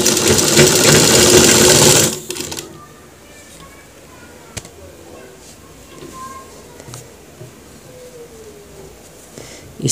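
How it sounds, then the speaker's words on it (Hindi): Sewing machine stitching a cross pocket on a pair of trousers, a loud dense run of stitching for about two seconds that stops abruptly, leaving quiet room tone with faint clicks and handling noise. "बिल्कुल आराम से इसको सिलाई यहाँ से लगाना है।"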